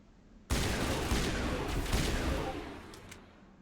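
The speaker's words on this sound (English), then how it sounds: "I forgot how powerful the sniper rifle is" A powerful sniper rifle in Mass Effect fires with one abrupt, loud blast, followed by a long, roaring rumble that holds for about two seconds before tapering away.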